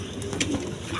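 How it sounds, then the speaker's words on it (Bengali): A pair of coloured Golla pigeons coos softly over a low, steady background hum, with one brief brighter call partway through. "দর্শক, এখানে এক পেয়ার কালারিং গোল্লা আছে"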